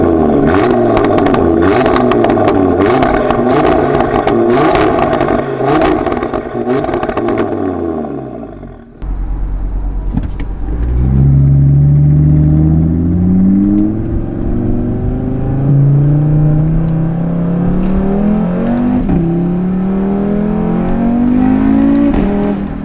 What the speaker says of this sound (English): We'll do a couple revs